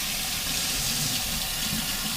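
Hot water pours steadily from a kitchen tap during brownie cleanup, a loud close continuous hiss and splash with no speech.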